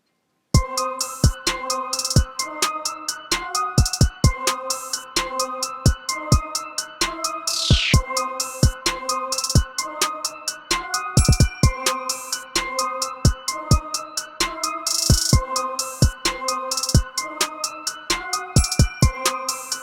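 A hip-hop beat built in Ableton Live: punchy kicks and crisp hi-hats in a steady repeating groove under a looping melodic sample, with a brief rising sweep midway, clean and even throughout.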